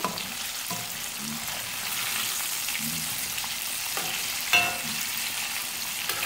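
Chicken drumsticks fry in oil over a medium flame, giving a loud continuous sizzle that fills the whole stretch, with occasional light knocks of a utensil in the pan.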